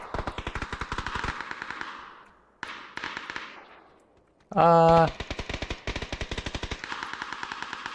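Automatic gunfire in the video game PUBG: rapid bursts of shots crackle in quick succession, pausing briefly then resuming, with a short electronic tone in the middle and a player voice heard faintly.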